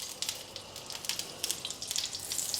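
About a teaspoon of beef tallow sizzles and crackles in a hot pan while blackened steak is being prepared, a close, fairly quiet frying hiss with irregular small pops.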